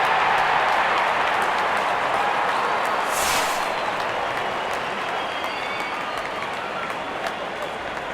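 Stadium crowd in the cricket video game Real Cricket 22 at an India vs Pakistan T20 match, a dense, loud wash of applause and crowd noise that holds steady throughout.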